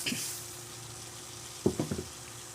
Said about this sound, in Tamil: உப்பு கொஞ்சம் போட்டு மொத்தமாக கிண்டுவோம்